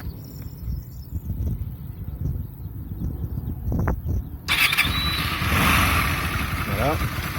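A warm, all-stock Hyosung Comet GT 125 motorcycle sits quiet with faint clicks and outdoor ambience. Partway through, its engine catches and starts, jumping into a steady, fairly loud idle.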